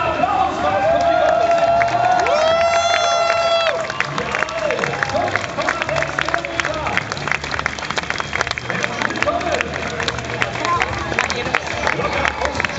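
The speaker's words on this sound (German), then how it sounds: "ein feuer Applaus für das Publikum" A large crowd applauds and cheers at the Chase Run 2014 finish in Frankfurt, with dense, continuous clapping and cheering mixed with babble and raised voices throughout.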